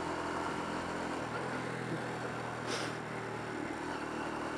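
Motorcycle engine held near the top of its rev range in fifth gear while riding, a steady continuous drone with rushing wind noise throughout and no one talking.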